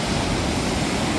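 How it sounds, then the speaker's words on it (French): Powerful ocean waves crash against a rocky shore below a staircase, a loud, continuous roar of surf and spray filling the whole moment without any voices. "Puissance des vagues."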